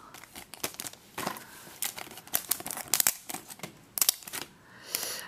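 Crinkly plastic-and-paper ad insert peeled and crumpled by hand from a Pokémon TCG XY Movie Premiere Xerneas pack, close and bursty with sharp tearing crackles and pauses, no talking.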